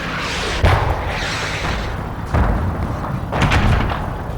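In a tank video game, three heavy tank gun shots fire at spaced intervals, each a loud close boom with a rumbling tail over continuous engine and battle noise.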